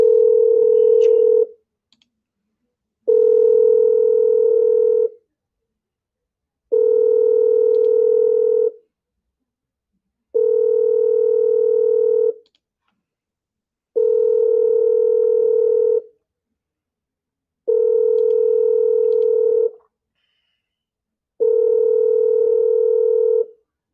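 A telephone ringback tone repeats seven times at regular intervals, each a steady electronic tone of about two seconds followed by a pause. It sounds loud and clear with no talking.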